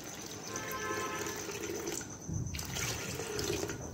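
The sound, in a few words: water being poured into black chickpeas for cooking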